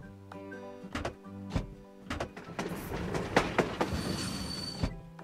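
A toy-like cartoon train in a kids' train game rolls along the rails with rhythmic clicking and clacking, hissing noise, and a rising whistle-like squeal, accompanied by a bright musical tone.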